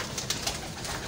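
A breeder pigeon in a loft in Lahore's walled city gives a short, soft coo, close and alone.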